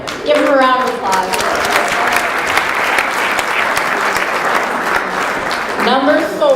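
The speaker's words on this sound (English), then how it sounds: "Give him a round of applause." A room of guests at a company holiday party applauds a gift card winner, with loud, dense, sustained clapping and voices heard briefly at the start and end.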